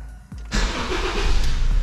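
A 2008 Honda New Civic is started up close: a brief starter crank is followed by the engine catching and settling into a loud, steady idle.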